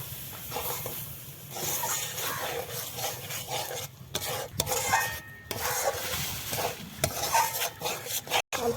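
Milk being stirred into a gulab jamun mixture in a pan, with continuous wet scraping and swishing from a spoon against the pan at an uneven pace, close by, with brief pauses and no talking.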